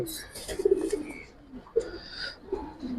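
Moulting Giribaz pigeons coo softly in repeated low, throaty calls, several birds close by with a few rustles between the coos.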